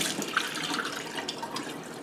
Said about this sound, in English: Turn on the water high